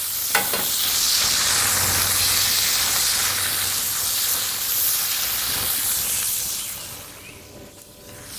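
An egg frying on a griddle beside cheeseburgers, a loud, continuous sizzle and hiss up close, with a brief clink early on and the crackle easing slightly toward the end.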